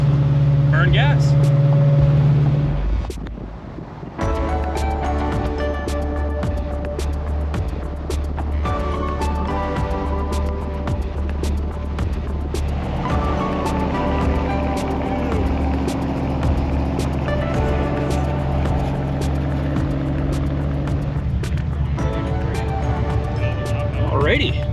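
A service truck cruising on an interstate during the Hot Rod Power Tour, its engine and road noise a steady drone under people talking throughout.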